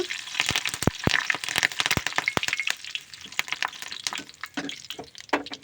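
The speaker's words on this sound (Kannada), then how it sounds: "ಅದರ ಜೊತೆಗೆ ಕರಿಬೇವು ಹಾಕ್ತೀನಿ ಅದನ್ನು ಚೆನ್ನಾಗಿ ಫ್ರೈ ಮಾಡ್ಕೊಳ್ಳೋಣ" Curry leaves fry in hot oil with dense crackling and popping, a busy close-up sizzle of sharp sputters and snaps that continues steadily throughout.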